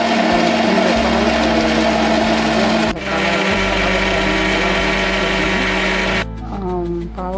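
A kitchen mixer grinder runs loud and steady, whirring chilli powder, turmeric and salt into a fine paste, with a brief pause in pitch midway before the motor cuts off and the whine fades.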